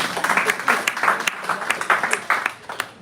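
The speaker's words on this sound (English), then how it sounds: "Applause, please." Applause at a live-streamed Conservation Through Public Health event after an award-winning author is introduced, a mid-sized burst of clapping with irregular peaks that thins toward the end over about three seconds.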